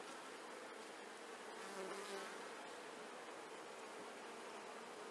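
Honey bees buzz steadily and close during a hive inspection, a dense continuous drone with no voices.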